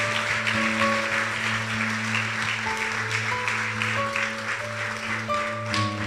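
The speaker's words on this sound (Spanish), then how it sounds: "¿Por qué no le damos un aplauso al Señor?" Church congregation applauding: a steady wash of crowd clapping lasting several seconds, with sustained musical tones from instruments playing underneath.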